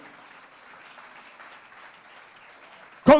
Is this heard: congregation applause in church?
yes